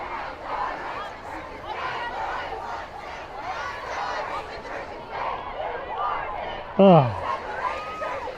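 A large crowd of protestors gathers in the rain, a steady murmur of many voices and chatter throughout, with a brief loud shout rising near the end.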